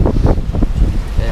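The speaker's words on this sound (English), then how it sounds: "It is more wind, more waves," Strong wind buffets the microphone aboard a sailboat on an open-sea passage to Cuba, with waves rushing constantly underneath. A voice speaks over the steady, loud roar.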